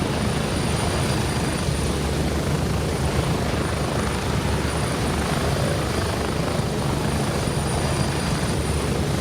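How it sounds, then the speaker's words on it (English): A helicopter called in at the edge of the woods during a video game roars steadily and loudly throughout, a dense continuous rotor and engine drone with no pauses. "I called this helicopter in at the edge of the woods right there"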